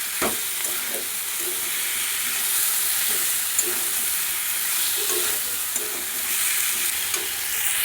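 Spices and turmeric are sautéed in a pan for a vegetarian Bengali dish, producing a loud, continuous hissing sizzle with occasional soft scrapes from stirring and no speech.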